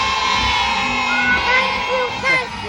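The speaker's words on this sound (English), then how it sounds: "the crowd isn't going to quiet down for him" A convention crowd of delegates cheers for Winnie the Pooh, with whoops, yells and shouting voices forming a loud, continuous roar that swells and dips.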